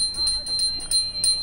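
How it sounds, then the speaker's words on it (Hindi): A small bell rings in a quick repeated series of bright, clear chimes, about six strikes in just over a second, close and alone with no talk. "घंटी।"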